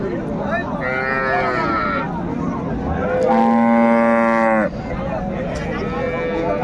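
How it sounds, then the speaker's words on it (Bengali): A cow with her calf moos twice, long drawn-out lowing calls close by, with a busy background murmur of people at a cattle market. "গাভী বাছুর আমরা দেখছিলাম এখানে।"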